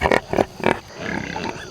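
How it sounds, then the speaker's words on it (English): Pigs being moved on a homestead squeal and grunt in several close, loud bursts, with a rougher, steadier stretch of animal noise at the end. "pigs are squealing"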